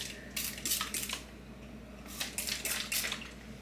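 Squirts from a water bottle wet a person's hair, two clusters of short hissing sprays, each a quick run of three or four spurts separated by a pause, close and fairly loud with no talking.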